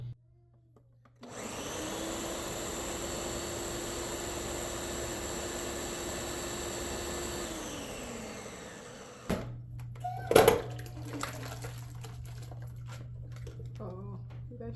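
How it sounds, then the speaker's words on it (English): Beans for Nigerian moi moi being washed in water, a steady rushing wash of running water lasting several seconds before stopping, followed by a few soft splashes and clunks. "Go ahead and wash your beans."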